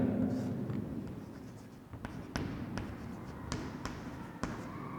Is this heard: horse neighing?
no